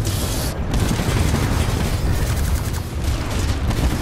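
Gunfire in Titanfall 2 during a titan fight, a loud unbroken stream of rapid shots and booms that fills every moment with no pauses.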